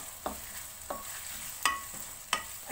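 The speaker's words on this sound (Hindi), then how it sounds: "अच्छे से फ्राई करेंगे।" Whole black peppercorns and cumin seeds fry in oil in a pan, a steady soft sizzle broken by four sharp stirring scrapes spaced evenly, close and moderately quiet with no talking.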